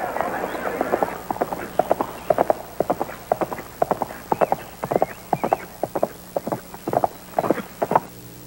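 Horse hooves clip-clop in a steady trotting rhythm as a rider heads out of a Western town, the beats fairly close and clear with a voice narrating over them.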